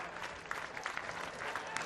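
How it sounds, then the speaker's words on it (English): Crowd noise at a Blue Jays baseball stadium with the bases loaded and a two-strike count, a dense wash of clapping and cheering held at a steady, moderately distant level. "you hear the crowd starting to get into it with the bases loaded and a 2-strike count"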